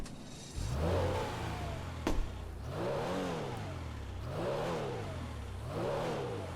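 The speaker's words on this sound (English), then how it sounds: "I don't want to cheat anybody out of the exhaust note, so this is how it sounds starting up." A Comet S2 Cabrio sports car in GTA 5 fires up, then its engine is blipped in three or four smooth rev swells that rise and fall in a rolling rhythm, close and moderately loud.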